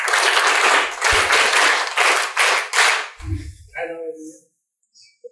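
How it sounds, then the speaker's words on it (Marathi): Schoolchildren at a rural district council school in Palghar clap together in a few loud, rhythmic bursts close by, then the sound drops away to quiet with brief voices. "याच्यासाठी 3 टाळ्या वाजवा"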